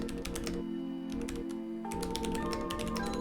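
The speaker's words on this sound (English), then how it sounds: "So I'm going to go over some of the typing stuff." Steady, rapid keystrokes on a computer keyboard attached to a minimal software cyberdeck, clicking close and continuously over tonal background music with no speech.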